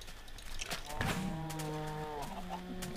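A cow in a farming video game lets out a long, drawn-out moo that rises and then holds steady, clear and close over ongoing game background sounds.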